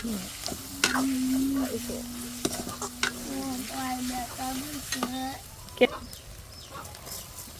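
Ginger paste sizzles in oil in a pan with stirring clicks and scrapes, while people talk nearby over it and a steady tonal hum runs underneath.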